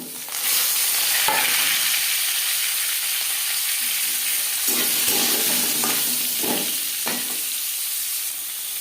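Papaya pieces fry in oil with popping black mustard seeds and a dry red chilli, giving a loud continuous sizzle. Several bumps and scrapes of a stirring spoon come in the second half.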